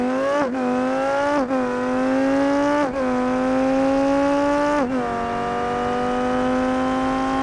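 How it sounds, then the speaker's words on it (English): A car engine in the BeamMP driving game whines steadily at high revs while speeding on a freeway. The pitch drops briefly at each of four quick gear shifts, then climbs again. The sound is loud and continuous, with no voices. "this car goes so fast"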